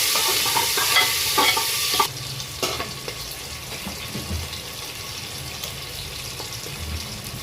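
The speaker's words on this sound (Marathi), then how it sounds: "आता आपण त्यात टाकू कांदा आणि मिरची।" Sliced onion and green chilies sizzle in hot oil with cumin, a loud hiss that drops suddenly partway through and continues softer alongside occasional stirring scrapes.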